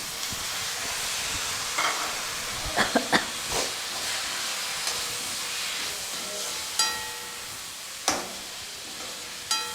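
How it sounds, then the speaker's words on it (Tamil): Onions and tomatoes with spices cooking in a pan for an egg gravy, a soft background hiss and sizzle broken by several brief scraping stirs and clinks, quiet and close. "இப்போ வெங்காயம் தக்காளி நல்லா வதங்கிக்கிட்டோம்"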